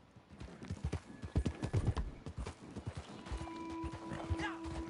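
Hooves of a horse in Red Dead Online clip-clop in a steady, fairly close rhythm, with a voice speaking over the footfalls and a held tone entering near the end.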